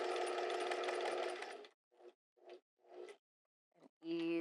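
A sewing machine sewing with a very short stitch length on a square neck top, running continuously at first, then in several short bursts, ending as a voice begins.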